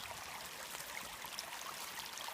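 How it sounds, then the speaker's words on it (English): Water flows steadily in a stream beside the Starr trail, a faint, continuous hiss of rushing current heard from a short distance with no voices. "there's the water flowing"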